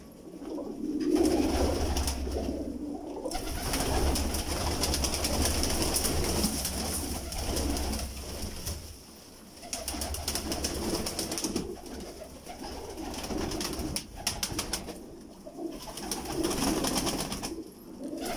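Champion breed pigeons at a loft coo repeatedly in low, rolling phrases that rise and fall over a steady background hum, with birds close by.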